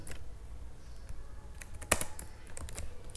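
Bursts of keyboard typing, a string of fast key taps with a louder clack near the middle, recorded close and moderately quiet, with no voices.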